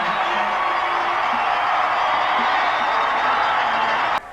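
A football stadium crowd roars after the Massillon Tigers come back to beat Walsh Jesuit in 1989, a dense, loud, sustained cheer with scattered whoops that cuts off abruptly near the end.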